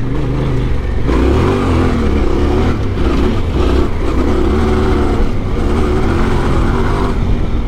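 A Yamaha Tenere adventure motorcycle launches and pulls away on an off-road enduro track, its engine a loud, steady roar close to the listener that holds throughout without letting up, with no talking.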